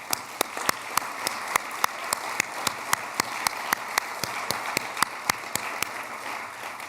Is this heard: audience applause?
yes